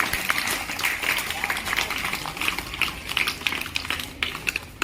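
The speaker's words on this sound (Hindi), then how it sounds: "एक बार जोरदार तालियां।" An audience at a primary school quiz event claps loudly for a correct answer. Dense, steady applause fills the whole stretch, with a voice faintly mixed in beneath it.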